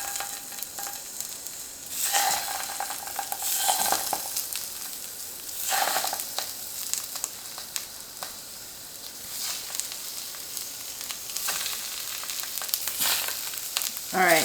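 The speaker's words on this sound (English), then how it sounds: "So we're going to go over to the stove here and add this to this preheated skillet." Tofu hisses and sizzles in a preheated stovetop skillet, a close continuous fry with several louder bursts as pieces hit the pan and settle.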